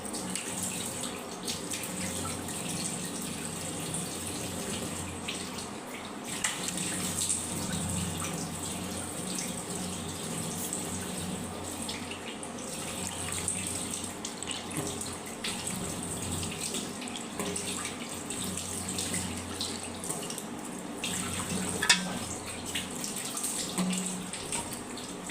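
A water tap runs during face washing, a soft, steady stream with faint splashing and trickling, quiet and continuous throughout.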